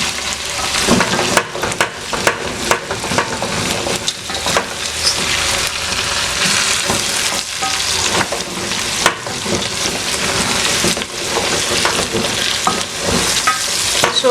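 Onions fry in a pot for pilau and are stirred constantly, so a loud, busy sizzle runs throughout with rhythmic scraping and clattering of the spoon close by. Nobody speaks.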